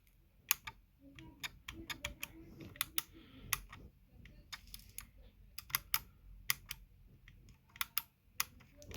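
Sharp, close plastic clicks of a Logitech G502 mouse's faulty middle button, pressed over and over at an uneven pace, some in quick pairs, in an otherwise quiet room.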